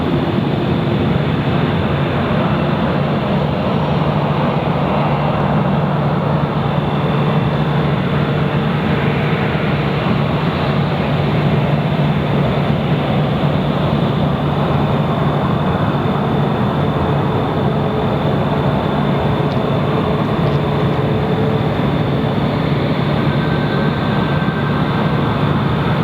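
A Southwest airliner on its night takeoff from runway 26 right gives off a steady, loud, broadband jet roar that holds its level throughout, with no voices over it.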